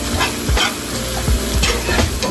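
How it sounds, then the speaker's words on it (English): Flour stirred into hot fat in a pan for gravy, with a continuous loud sizzle and rhythmic scraping strokes close by, no talking. "And then we're gonna whisk all that together"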